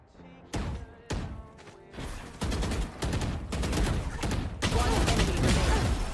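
Gunfire in the video game VALORANT, opening with two separate loud shots and building into dense, sustained bursts of firing and impacts that grow louder toward the end.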